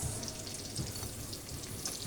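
Onions frying in garlic oil in a pan for a chicken sotanghon soup, giving a steady, close sizzle with soft crackles throughout and no talking.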